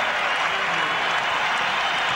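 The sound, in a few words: basketball arena crowd cheering during Lakers vs Timberwolves game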